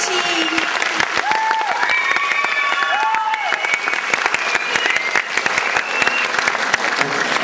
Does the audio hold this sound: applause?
yes